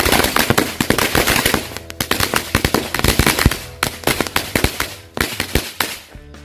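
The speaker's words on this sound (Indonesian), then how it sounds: "ini kita nyalain berbagai jenis mercon korek yang udah kita susun" A string of lit matchstick firecrackers goes off in rapid, irregular bursts of loud sharp cracks and pops, close and continuous for several seconds with no talk.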